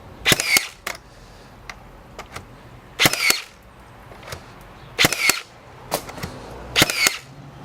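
Makita 18V cordless framing nailer driving nails, firing sharp loud cracks in spaced pairs and clusters, some doubled as the tool bounces, with quieter mechanical clicks between shots and no speech.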